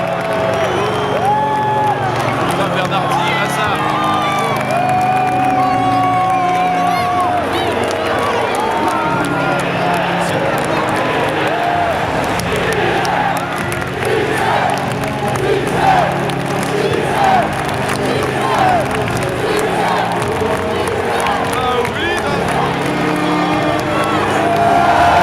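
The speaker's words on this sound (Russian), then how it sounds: "Стадион взрывается аплодисментами." A football stadium crowd in a Ligue 1 match roars and cheers as a substitute comes on, a loud sustained swell of voices with music-like tones, under narration throughout.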